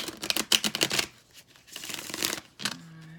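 A deck of tarot cards being shuffled by hand, with bursts of rapid riffling and flicking, a brief lull, then another shuffle, close and crisp.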